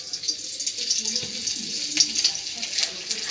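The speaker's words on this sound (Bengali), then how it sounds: "এই ডিমটুকু ভেজে একটু তুলে রেখে দেবো।" Pabda fish roe frying in hot oil, giving a steady, close crackling sizzle with small pops throughout and no talking.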